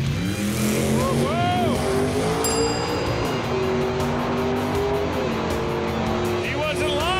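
A 1959 Chevy Corvette makes a drag racing pass at a Pass Time event, its engine roaring and rising through the gears under a loud announcer and crowd noise, with a brief tire chirp.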